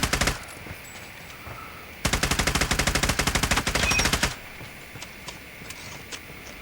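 AGR 556 rifle fire in a video game: a short burst, then a long rapid automatic volley of sharp, evenly spaced shots, followed by a few scattered pops.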